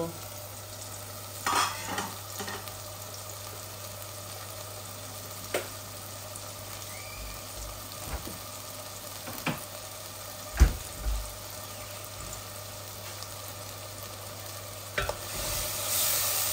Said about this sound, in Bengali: সবকিছু দেওয়া শেষ তো, এখন শুধু নাড়াচাড়া করব।